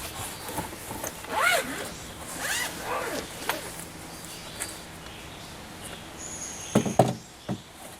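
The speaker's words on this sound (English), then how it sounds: "These are the Goal Zero panels, and all I do is unzip them and set them out." Zipper on a Goal Zero portable solar panel carrying case pulled open in a few quick rasping strokes, fairly close. A sharper burst of zipping comes near the end.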